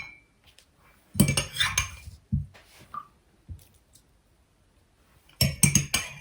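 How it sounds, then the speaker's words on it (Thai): Oyster mushrooms are tossed with crispy frying flour in a bowl, giving separate bursts of close scraping, clattering and clinking of a utensil against the dish, with quiet gaps between them. "คลุกแป้งให้เข้ากับเห็ดนะคะ"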